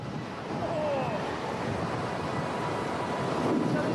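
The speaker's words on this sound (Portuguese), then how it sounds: "David, logo de cara, coloca um vento de 40 km por hora." Artificial wind blown at 40 km per hour, a steady broadband rushing roar that swells after the first half second and then holds, loud and close with a buffeting feel.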